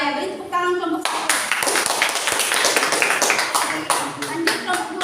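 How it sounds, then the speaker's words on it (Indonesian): A classroom of students bursts into clapping for group 1 right after a short spoken line, the applause quickly swelling into lively, scattered hand claps that continue for several seconds. "beri tepuk tangan kelompok 1"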